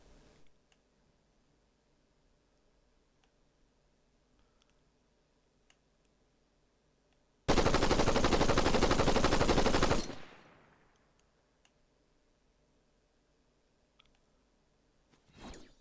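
Sustained burst of AR assault rifle fire in Fortnite, a loud dense stream of rapid shots lasting a few seconds and ending abruptly with a brief decaying tail, otherwise quiet around it.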